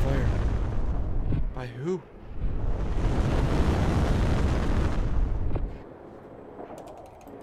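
Ship weapons fire and heavy explosions in the space combat game Star Citizen roar in a dense sustained barrage, loud and close, with a voice speaking briefly before the blasts fade into quieter rumble.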